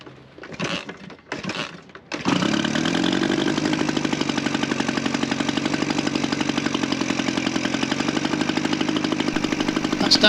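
A pre-1919 veteran motorcycle engine just reassembled after a repair, a few sputtering kick attempts then catching into a steady, fast, even idle chug, close and loud, running alone.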